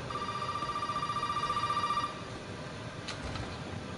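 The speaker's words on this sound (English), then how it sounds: "Pick up the phone, Ethan, pick up the phone." A telephone rings inside the Resident Evil 7 game, a steady electronic trill repeating for about two seconds before cutting off, followed by a brief metallic clank and low ambient hum.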